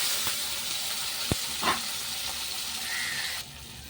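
Prawns, onion and green chilli fry in hot oil with a steady near sizzle and hiss, a few sharp pops and spits, before the frying noise drops away abruptly near the end.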